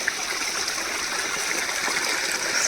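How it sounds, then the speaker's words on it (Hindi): Water from a village stepwell in Himachal spills over a road, making a steady close rushing stream with constant splashing and no voices. "ये सारा पानी रास्ते के ऊपर से होकर के जा रहा है"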